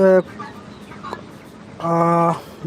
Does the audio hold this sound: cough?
no